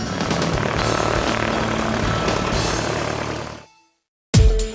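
A Beechcraft Staggerwing biplane drones with a loud, close propeller-engine roar that holds steady, then fades into a brief silence before a short, sudden burst of noise at the end.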